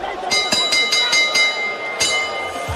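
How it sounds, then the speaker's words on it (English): A boxing ring bell clangs a rapid series of strikes to end the round at a super featherweight bout in Bukom, ringing over a noisy crowd. "he'll be saved by the bell"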